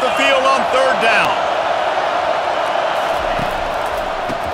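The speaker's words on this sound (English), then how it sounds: "Here comes this home crowd as the defense tries to get off the field on 3rd down." A home crowd roars in a College Football 25 stadium during a third-down defensive stand, a loud sustained wash of cheering that swells and holds throughout, with a brief voice near the start.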